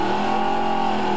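A race car runs under hard acceleration on a license test run, its engine a loud, steady, close roar with strong harmonic tones that holds throughout without a break.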